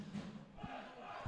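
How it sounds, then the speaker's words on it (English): Home football crowd at a Finn Harps versus Athlone Town match, a steady distant roar of fans with low thuds and shouts rising behind it. "So the home crowd here trying to get back behind the home team here."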